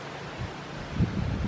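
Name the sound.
strong wind outdoors in a garden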